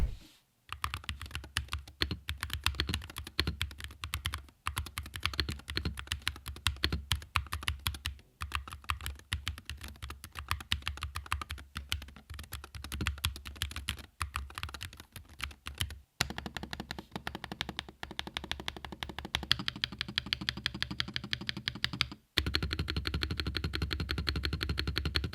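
Continuous typing on a Monsgeek FUN60 Pro, a $30 keyboard with an aluminum plate: fast, dense keystroke clicks run nearly the whole stretch, close and clear, with a few brief pauses and no voices.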